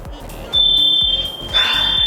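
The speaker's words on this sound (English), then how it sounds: "I can still hear the fire alarm." A fire alarm sounding from indoors while standing outside, a piercing continuous high beep heard in two stretches over background clatter, moderately loud.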